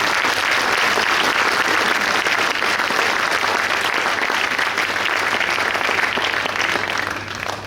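Dense, steady applause fills the room from an audience at a mayor's New Year village evening honouring local volunteers, holding strong before easing off at the end.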